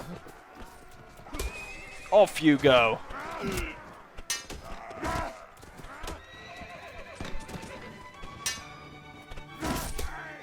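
Horse neighing and galloping in a Napoleonic-era battle game set with Prussian forces: a sharp whinny, clattering hoofbeats and scattered battle noises, with a voice speaking briefly over them.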